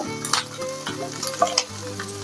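Curry leaves hit hot oil in a pan of sautéing ambazhanga (hog plum) pickle mixture, giving a bright crackling sizzle with bursts of spattering as the pan is stirred, close and loud over soft background music.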